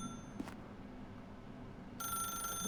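A telephone in The Stanley Parable starts ringing near the end, a bright electronic trill cutting in loudly over quiet office ambience, with a brief faint click earlier.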